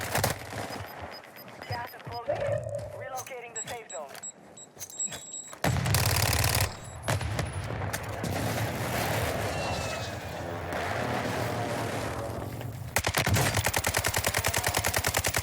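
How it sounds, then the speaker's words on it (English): Automatic rifle fire in the video game Warzone crackles in rapid bursts, with dense loud volleys after the midpoint and a final burst near the end, mixed with game effects and some talking. "Trying to shoot underneath."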